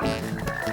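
A cartoon toad croaks in a dense, continuous burst of low, buzzing, rattly calls, loud and close with a busy backdrop.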